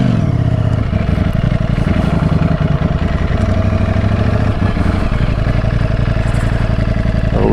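A Ducati Streetfighter V4 motorcycle pulls away, its engine a loud, close, steady throbbing drone with a rapid even beat and no talk over it.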